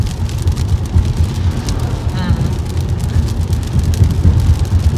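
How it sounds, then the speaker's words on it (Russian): Steady rain patters densely throughout, mixed with a low rumbling vehicle hum, with voices briefly talking over it. "судя по всему, весь день будет такой дождь"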